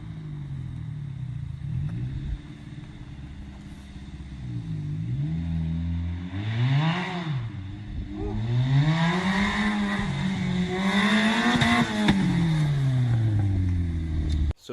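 A Chevrolet Cavalier mini NASCAR circle-track car with a small Ecotec engine idles roughly, then revs up in several rising and falling blips, loud and close.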